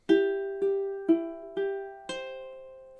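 A ukulele plays a short measure from a song, five evenly spaced plucked chords ringing clearly, the last one left to sustain and fade, with no voice.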